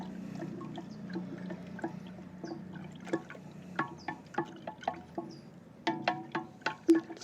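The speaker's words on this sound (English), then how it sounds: "Stir that shit around." A stick stirring a honey and water solution inside a glass jar, producing a series of quiet clinks and knocks that grow more rhythmic and frequent toward the end, over faint sloshing.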